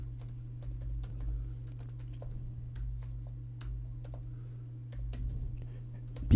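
Quick, steady keystrokes on a computer keyboard while C code is typed, sharp clicks falling in irregular bursts over a constant low electrical hum, with no speech.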